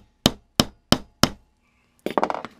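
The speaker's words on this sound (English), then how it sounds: "me hammering with the camera on the bench" Four evenly spaced, sharp hammer blows on leather laid on a wooden workbench while making an axe sheath, close and loud, then a quick burst of clattering knocks.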